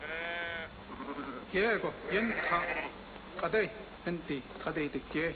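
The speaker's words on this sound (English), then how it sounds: "Little Bo has caught one of Dark Eyes' goats." Several wavering bleats from a goat, close by, repeated in short bursts with brief pauses between them.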